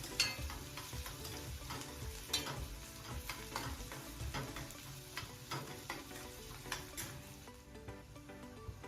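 Onions and green chillies frying in a pan for banana flower curry make a continuous close sizzle, punctuated by repeated light taps and scrapes of a spoon against the pan.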